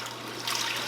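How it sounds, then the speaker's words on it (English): Orange juice pours from a Vitamix blender jar into an Instant Pot in a quiet, steady trickle that swells slightly toward the end, with no talk. "I'm going to pour my juice in here from the Vitamix."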